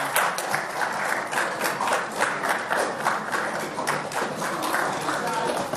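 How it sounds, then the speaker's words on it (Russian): Sustained, dense applause fills the hall from a large audience at the signing of an agreement between the Republic of Tatarstan and the Russian Academy of Sciences. The clapping rolls on steadily throughout. "Бурные продолжительные аплодисменты."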